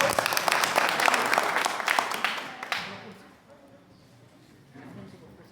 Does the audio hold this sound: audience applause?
yes